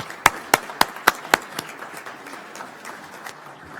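At a county commissioners court meeting, a handful of sharp, separate claps ring out in an evenly spaced rhythm, then thin out into faint scattered patter and room quiet.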